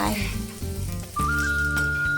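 Rice bran oil sizzles steadily as pounded chili and garlic fry, with a high whistling tone running through the second half, close and fairly loud.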